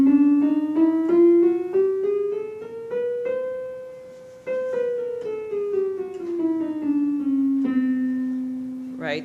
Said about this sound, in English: it's called a chromatic scale, where you play every single key, white and black